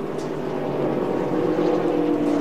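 NASCAR Camping World trucks at full throttle in a race at Chicago, a dense, continuous engine roar held without a break.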